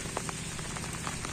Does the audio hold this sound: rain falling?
yes